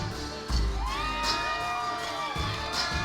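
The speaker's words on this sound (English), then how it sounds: "Nice round of applause" A crowd at a Memphis cage fight event cheers and whoops as a fighter enters, with loud sustained shouting, rising yells and bursts of applause.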